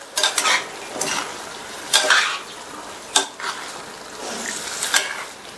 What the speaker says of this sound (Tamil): வேக வச்ச வாழைக்காயை இதில் சேர்த்துட்டு இந்த மசாலாலாம் நல்லா மிக்ஸ் பண்ணி விட்டுருங்க